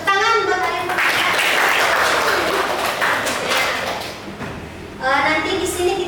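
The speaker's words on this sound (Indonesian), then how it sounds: "Tepuk tangan buat kalian." A class bursts into applause, a dense wash of many hands clapping that swells, fades briefly near the end, then surges again.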